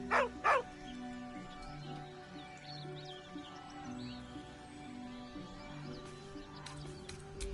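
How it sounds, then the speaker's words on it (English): A dog whimpers and yelps in Baldur's Gate 3, two sharp bursts near the start followed by a long, low whining under a quiet ambient game score. "With a deep, heartbroken whine, the dog bows his head"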